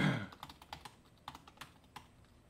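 Keys are tapped on a computer keyboard while a Linux terminal command is entered, about a dozen quick, light clicks in an uneven rhythm, close and quiet, with no talking.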